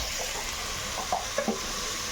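Vegetables sizzling in a frying pan, a steady broadband hiss with a few small pops and stirring scrapes, close and continuous with no talking.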